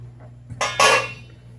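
A metal steamer pot lid lifted off after steaming boba on a gas stove, a short clatter then a louder clinking rattle with a hiss, close and alone.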